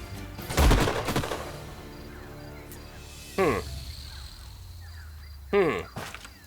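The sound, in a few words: flank shot gunfire in Age of Wonders: Planetfall video game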